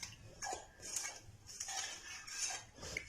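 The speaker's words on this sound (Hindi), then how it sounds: "अब इसको अच्छी तरह मिक्स करेंगे घी और पानी को।" A spoon stirring ghee, water and salt together in a bowl while making samosa dough, with repeated light metallic clinks and scrapes against the bowl in a steady rhythm, close and fairly quiet.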